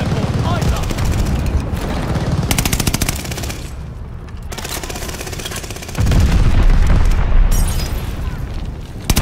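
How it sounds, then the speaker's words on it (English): Friendly bombing-run explosions and heavy gunfire in a Call of Duty Vanguard multiplayer match, a dense continuous barrage with a louder surge of booms in the last few seconds, under game voice callouts. "Friendly bombing run on the way."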